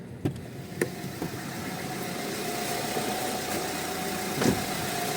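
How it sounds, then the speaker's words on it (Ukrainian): A Renault Laguna 3 with a K9K diesel engine idles steadily with a low, even, somewhat noisy rumble, close by, with a few faint clicks and knocks near the start. "Двигун досить таки шумнувато працює"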